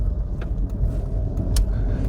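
A £300 Vauxhall Astra F, recently revived after four years parked, idles slightly high while still cold, giving a steady low engine rumble heard from inside the car.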